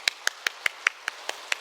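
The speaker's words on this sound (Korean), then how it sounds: "다 같이 박수" A children's Sunday school group at a church gathering claps together in about eight sharp, evenly spaced claps, close and distinct with no talking.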